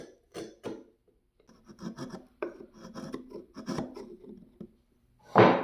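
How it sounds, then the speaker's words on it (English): Chisel paring waste from a wooden joint on a board, giving a series of short rasping scrapes and cuts in irregular bursts, close and fairly quiet, ending with a louder scraping stroke. "make a bunch of cuts in between your two marks, and clean up the rest with a chisel"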